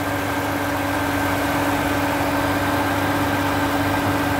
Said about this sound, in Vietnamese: Xe là đang hoạt động mọi người nhé. Máy nổ đây. Cực kỳ là êm nhá.